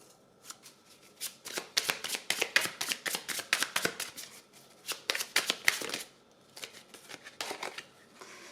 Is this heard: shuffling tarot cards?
yes